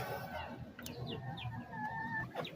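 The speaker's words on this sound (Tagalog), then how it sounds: "Yan ang ating mga inahin." Hens cluck and chatter in a chicken shelter, soft clucks and brief drawn-out calls at moderate distance over low background rumble.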